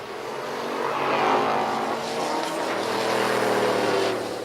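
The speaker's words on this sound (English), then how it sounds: "And yet the Jeep gets there first, running 7:27 in the 8th mile at 100 miles an hour." A turbocharged Jeep Cherokee drag races down an eighth-mile strip, its engine a loud, sustained roar that swells and holds steady with no one speaking.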